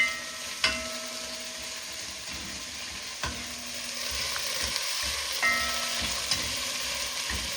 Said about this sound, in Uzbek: Birinchi bo'lib piyoz sovuramiz.